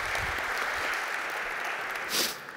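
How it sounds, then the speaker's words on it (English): Conference audience applauding a speaker, a dense, even patter of clapping from a crowd that holds steady for a couple of seconds and then fades out. "Please, big round of applause."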